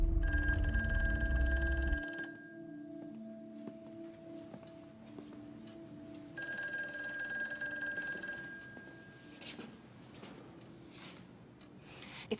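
A telephone bell rings in two long bursts separated by a pause, loud and close, with faint clicks in between.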